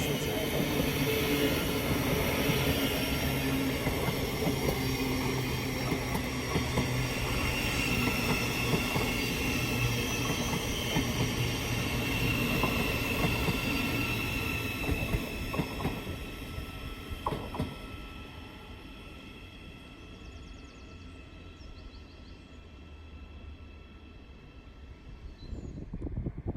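A Thameslink Class 700 electric multiple unit passes through West Hampstead Thameslink station with a loud sustained rumble of wheels on rail and some squeal, which fades toward the end as the train moves away.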